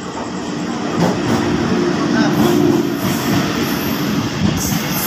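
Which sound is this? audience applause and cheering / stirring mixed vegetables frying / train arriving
train arriving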